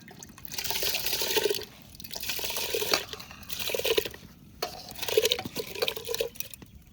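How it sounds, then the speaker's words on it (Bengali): Washed rice poured into warm water in a cooking pot, giving bursts of splashing and trickling liquid in three or four waves with short pauses between, close and fairly loud, no voices. "এবার জলের মধ্যে চাল দিয়ে দেবো।"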